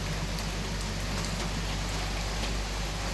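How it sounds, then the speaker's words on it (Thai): Steady, dense rain during a rainstorm, pouring evenly onto surfaces close by, loud and unbroken with no voices. "ฝนซาแล้ว เดี๋ยวสักพักฝนนิ่ง"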